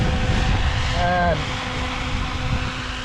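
An XLPower Specter 700 RC helicopter on a 6S setup spins its rotor at about 1500 RPM, a steady loud whooshing drone close by with a brief rising tonal whine partway through.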